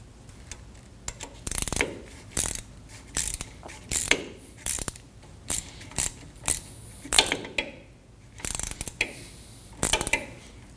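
A ratchet wrench snugging a bolt on a rear ABS wheel speed sensor of a 2015-2022 Chevrolet Colorado, heard as repeated short bursts of rapid clicking, close and fairly loud, with brief pauses between strokes and no voices.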